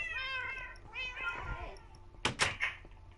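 Cats in the video game Minecraft meow twice in quick succession with rising and falling tones, followed by a couple of sharp knocking thuds, all fairly faint.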